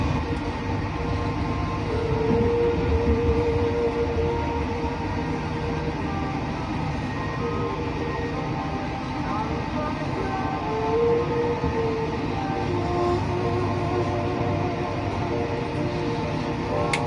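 An economy-class Progo train runs from Jakarta toward Yogyakarta, heard from inside the carriage as a constant low rumble and rolling drone, with occasional faint squeals from the wheels or brakes, and no talking.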